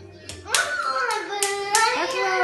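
A few sharp hand claps from a small group ring out over children's voices and excited chatter at a home visit, the claps spaced irregularly across a couple of seconds.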